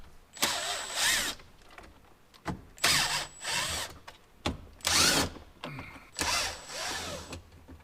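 Power tool bursts remove bolts from a 2019 Jeep JL tailgate, four loud whirring runs of about a second each separated by short pauses, close and with no talking.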